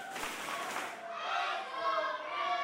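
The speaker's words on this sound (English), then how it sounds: "As you hear this capacity crowd cheering on the champion" A capacity crowd cheers on the champion as he returns to the ring for a live boxing main event: a steady, dense roar of many voices with rising swells, filling the space throughout.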